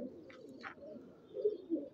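Old-breed pigeons coo softly in a low, throaty murmur, with a couple of brief higher chirps early on and louder coo swells near the end, close by and without speech.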